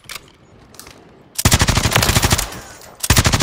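A Striker gun in a video game shooting at a firing range, with two faint shots, then a loud rapid automatic burst of about a second and a half, a pause, and another close burst, with no voice.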